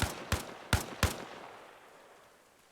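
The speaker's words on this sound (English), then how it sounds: "Like if you shoot through this wall." Four sharp gunshots in ARMA Reforger on Xbox Series X, fired at a sturdy wall, come in an uneven burst within about a second and each leaves a decaying echo. The shots are loud and close, and no one speaks.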